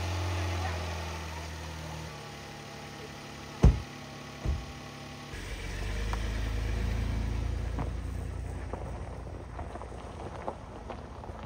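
A car engine runs at a steady low rumble on the drive to a trailhead for a Mirror Lake hike, with a couple of sharp thumps and rattles partway through and some talking inside the vehicle.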